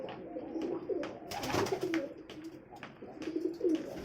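Several sick pigeons coo softly and repeatedly nearby, their low throaty calls overlapping with a few light rustles and flutters.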